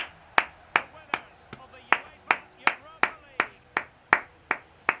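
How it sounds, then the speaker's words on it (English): One person clapping hands as a round of applause, a steady series of about a dozen sharp, evenly spaced claps, close and clear, with brief talk between the early claps. "round of applause on your feet for Seamus Coleman"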